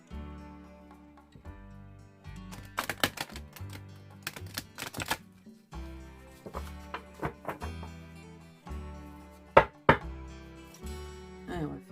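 Flower oracle cards being shuffled and tapped by hand, a series of crisp close riffling flicks and soft knocks in irregular bursts, with louder snaps near the middle and end, heard against faint background tones.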